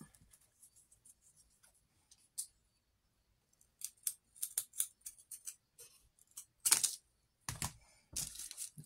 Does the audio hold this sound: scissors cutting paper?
yes